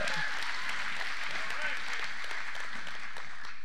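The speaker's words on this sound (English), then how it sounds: "can we give the string quartet a good hand clap of praise" Church audience applauding a string quartet, a dense steady wash of hand claps filling the space from start to finish, with scattered voices mixed in.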